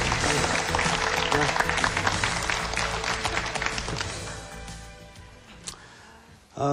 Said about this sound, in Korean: 박수가 치다가 끊어졌네